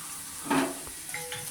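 Chopped onions with cumin, panch phoron and bay leaf frying in hot oil for a Bengali egg curry, giving a soft sizzle with a brief louder burst early on, then faint crackles and light clinks.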